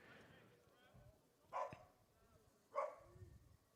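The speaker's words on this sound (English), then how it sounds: "Some dogs in the ballpark this afternoon" Two short dog barks about a second apart, fairly faint and distant, rise over crowd murmur and a play-by-play voice at a college baseball game between Bluefield and Spartanburg Methodist.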